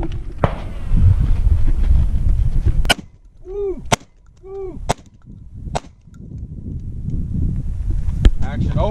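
Four sharp shotgun blasts from a Stoeger M3000 ring out on an outdoor range at a target, spaced about a second apart and loud, with wind noise and someone talking before and after the shots.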